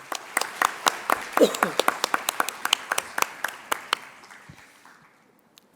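Audience applause at a seminar on consensual dispute resolution and mediation after a lecture, scattered claps fading out over several seconds while a voice speaks briefly over it.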